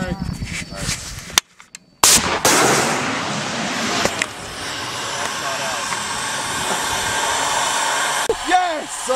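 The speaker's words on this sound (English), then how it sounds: "Hey, mortars are going too." Army combat in Helmand, with a loud sharp blast and a dense roaring wash of gunfire and mortar noise close by, plus whoops and shouting voices over the din.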